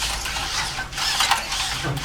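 A walking robot built for a keynote demo gives off a continuous mechanical whir of servo motors with faint creaks and clicks, close and steady for the whole stretch, with no voices.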